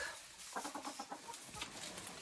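Hens cluck softly in a coop, a few short clucks and murmurs, quiet and close amid a faint hiss.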